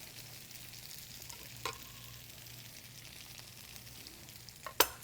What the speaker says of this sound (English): we want to put our tofu on the other side. And we're just going to cook this for about 2 minutes.